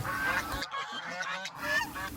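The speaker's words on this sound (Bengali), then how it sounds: "হাঁসগুলো আমাদেরকে ঘিরে খুব চিলাচিলি করছে" Geese, Pekin ducks and Muscovy ducks crowding around people on a farm, honking and calling loudly and close, with a short lull in the middle before the noise resumes.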